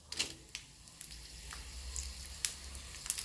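Spices sizzling in hot oil, with a faint steady crackle broken by a few brief sharp pops.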